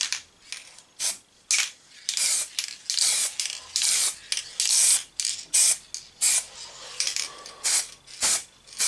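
Short bursts from a spray can hiss one after another, about a dozen quick blasts in a loose rhythm, close and fairly loud, as metallic blue paint is applied to a diecast Mercedes-Benz 300E model.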